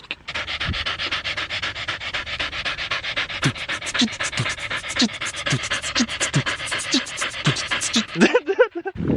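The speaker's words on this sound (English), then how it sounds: "So he just let go of the dogs." A hunting dog pants rapidly and steadily up close on a hike in Pololu Valley, Hawaii, heavy rhythmic breaths continuing for several seconds, ending with a brief rustle.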